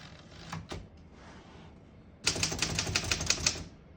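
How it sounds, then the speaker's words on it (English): A 1953 Underwood Deluxe portable typewriter: a couple of isolated keystrokes and a mechanical clunk, then a rapid, loud run of close-up typing strikes in steady rhythm. "We're going to keep that on single for now and finish typing."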